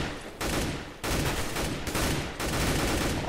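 Bursts of rapid gunfire crackle in Counter-Strike on de_dust, three loud volleys separated by short gaps, close and harsh.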